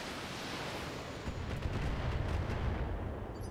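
Mech weapons fire in the BattleTech video game, likely LRM missiles, as a dense rumbling barrage that swells after the first second and rolls on steadily, loud and without talk.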